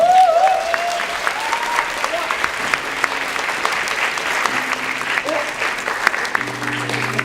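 Big welcoming applause from a festival audience greets a speaker taking the stage, steady dense clapping throughout with crowd noise and a voice over the top, plus some music tones entering later.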